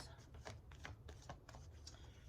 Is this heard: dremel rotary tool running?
no